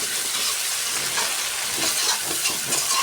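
Spice paste frying in oil in a home kitchen: a steady, close sizzling hiss with fine crackles, loud and continuous with slight swells, and no voices.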